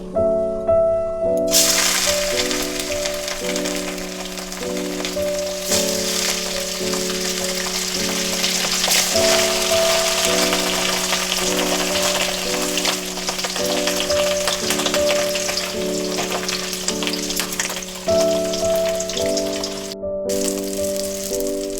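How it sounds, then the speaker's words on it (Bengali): Pieces of rohu fish fry in hot oil in a pan: a loud, continuous close-up sizzle with faint rattling and stirring, no talking. "তেল গরম হয়ে গেছে, এবার মাছগুলো দিয়ে দেবো।"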